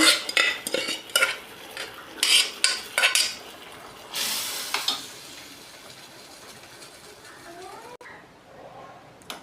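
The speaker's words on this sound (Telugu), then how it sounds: "మనం కుక్కర్లో పప్పు ఉడికించి పెట్టుకున్నాం కదా దాన్నేమో ఇందులో వేసేద్దామండి ఇలా" Cooked toor dal is added to a tomato mixture in a pan for tomato pappu, with several sharp spoon-on-pan scrapes and clanks followed by a soft wet slide and a quiet simmer.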